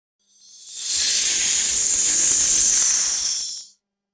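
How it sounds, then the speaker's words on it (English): A snake lets out a single long, loud hiss that swells in, holds steady for about three seconds, then cuts off. "The snake hisses at danger."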